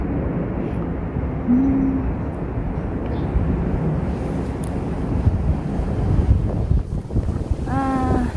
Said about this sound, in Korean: 시원하게 또 바람이 불어오네요